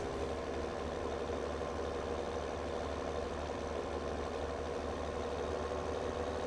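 A tractor engine in Farming Simulator 17 idles in a steady, even low drone with a constant mechanical hum, unchanging and moderately quiet, with no voices.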